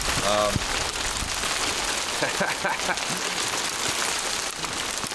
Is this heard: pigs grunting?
no